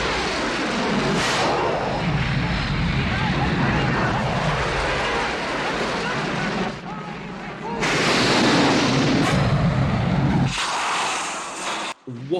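Heavy propeller-plane engine roar from an old Hercules-type warplane in a film fills the scene, surging in broad waves with sudden cuts and a sharp burst near the end.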